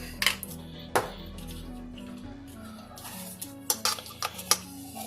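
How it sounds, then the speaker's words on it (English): A fork mixes dry muffin ingredients, including salt and baking powder, in a bowl, with sharp clinks and scraping taps against the bowl in uneven bursts under a quiet room hum. "you can use a fork to get all this really, really combined and mixed together"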